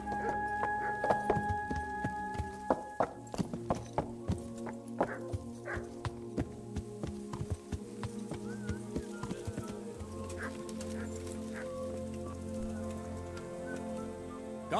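Rhythmic horse hooves clip-clop in the Kingdom Come: Deliverance game soundscape, mixed with tonal music and occasional dog barks, moderately loud.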